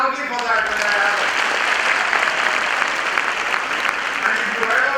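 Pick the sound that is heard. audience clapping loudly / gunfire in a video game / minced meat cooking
audience clapping loudly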